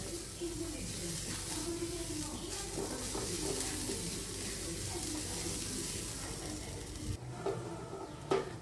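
Grated coconut roasting in a hot pan while its moisture cooks off, a steady soft sizzle and crackle with faint stirring scrapes, fairly quiet and continuous, ending in a couple of clunks.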